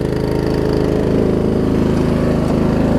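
A Murray riding lawn mower's engine runs loud and close while warming up, a continuous rough, throbbing chug with an even rapid pulse throughout.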